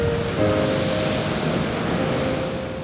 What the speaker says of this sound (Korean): 가슴 시린 파도 소리.